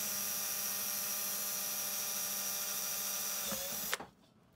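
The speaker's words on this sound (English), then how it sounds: "So what I've done is drilled a little hole" A power drill bores a small hole in a plastic alternator part aboard a sailboat, a steady loud whine running almost four seconds before cutting off abruptly, leaving quiet room tone.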